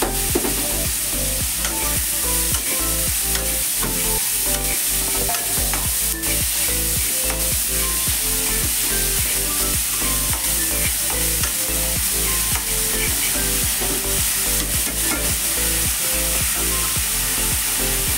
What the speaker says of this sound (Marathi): आता कांदा आणि कढीपत्ता टाकते.